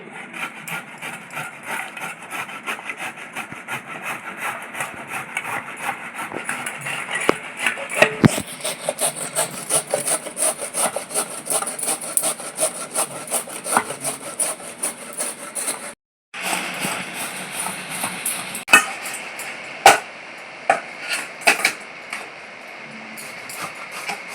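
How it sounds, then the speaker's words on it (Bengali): Peeled raw mango being grated for mango kasundi, a loud close rhythmic scraping of rapid rasping strokes that continues throughout, with one brief pause near the end. "দেখুন ভালো করে ছুলে নিয়েছি এখন আমি একটু ঘষে নিচ্ছি"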